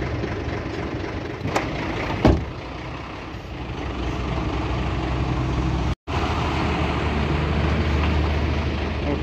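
A truck engine runs steadily with a gear engaged, a continuous loud low rumble, with a brief air hiss or clunk near the start and a short dropout midway; the clutch noise itself is not clearly separable.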